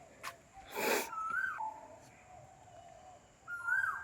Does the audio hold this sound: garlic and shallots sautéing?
no